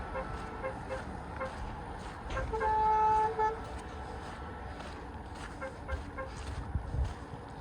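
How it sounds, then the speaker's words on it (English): Traffic rolls across the Second Niger Bridge, mostly heavy-duty trucks carrying goods, as a steady roadway rumble with one car horn honking clearly partway through. "majorly vehicles plying this road are heavy-duty trucks"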